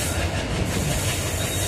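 A train running on the Rohtak-Meham-Hansi-Hisar railway line rumbles steadily, with a loud, close, continuous roar and a rattling wheel clatter heard from on board, with no talking.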